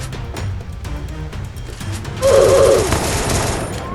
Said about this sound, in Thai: ไอ้นี่ยิงได้รีบซ้ำเลย